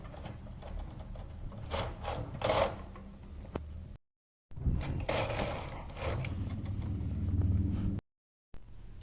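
Knitting machine carriage run back and forth to knit a woolen scarf, two close, steady rattling, whirring passes separated by brief pauses.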